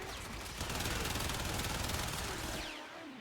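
A Soma Prime rifle firing in Warframe at full auto, with a dense, rapid stream of loud shots running about two and a half seconds before it cuts off.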